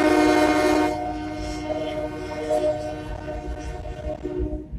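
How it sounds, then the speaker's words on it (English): A train goes by with a strong horn blast at the start, then a steady rumble and clatter of rail cars rolling past nearby. "Here goes the train."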